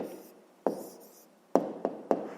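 A pen writes on paper in short scratchy strokes, four sharp onsets each trailing into a soft scrape, close and alone without talk.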